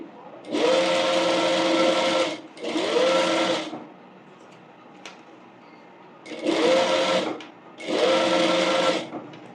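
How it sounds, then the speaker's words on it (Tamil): A sewing machine stitches bonnet cloth in four bursts, two close together, then a pause, then two more. Each burst is a loud, rapid whirring hum, with quiet gaps between. "இப்போ நான் இங்கேருந்து ஸ்டிச் பண்ணுறேன்."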